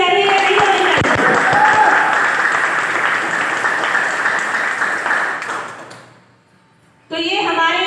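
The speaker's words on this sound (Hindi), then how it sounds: "तो जोरदार तालियां होनी चाहिए।" An audience at a talk gives loud, sustained applause with voices mixed in. It fades away to near silence before a voice starts up again.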